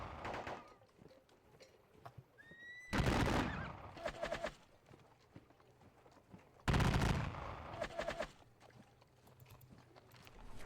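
Musket volleys in a Napoleonic war video game, as troops form line and open fire: two loud, crackling volleys a few seconds apart over a busy background of battle noise.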